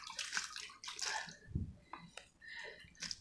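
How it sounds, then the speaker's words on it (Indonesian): Water poured from a scoop splashes and gurgles onto soil in an urban garden, in soft, quiet bursts. "Coba siram ya."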